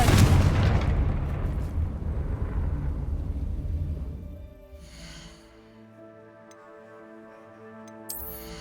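A Confringo fire spell explosion in the game Hogwarts Legacy: a loud booming blast that decays over several seconds into a quiet tail, followed by soft chiming magical tones and a small click.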